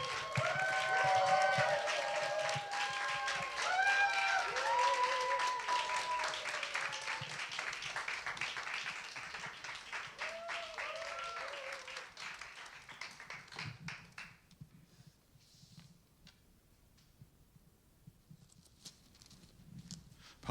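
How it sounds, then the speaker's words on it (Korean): Church audience at a Sunday service cheering and applauding to welcome a guest pastor, dense clapping with shouts for about fourteen seconds before fading to scattered claps. "우리 윤대성 목사님 초청할 때 우리 환호와 박수로 초청하겠습니다"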